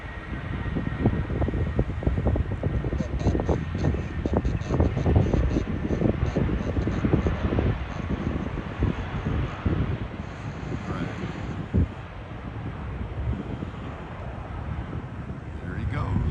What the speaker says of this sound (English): Once again, American 1800 Airbus A320 headed for Dallas.